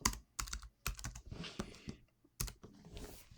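Quick bursts of typing on a computer keyboard, several short clusters of key clicks with brief pauses between them, close and fairly quiet.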